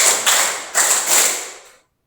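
A seminar audience taps or claps together in response to a count cue, a few sharp group bursts a fraction of a second apart, each trailing off in a short reverberant decay before silence.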